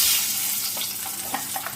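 Egg dropped into hot oil with masala for an egg curry, frying with a loud, close, steady sizzle and a few soft crackles and stirring touches.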